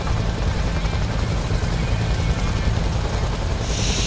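A helicopter gunship in a Vietnam War video game roars steadily close by, its dense rotor and engine noise filling the scene without letup, with no talking.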